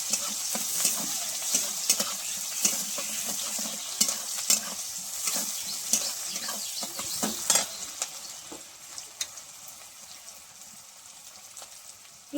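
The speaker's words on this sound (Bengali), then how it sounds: "পেঁয়াজটা একটু ভাজা ভাজা করে নেব।" Chopped onion fries in oil with kalonji and dried red chilli while a utensil stirs and scrapes the pan in regular strokes over a steady sizzle that fades near the end.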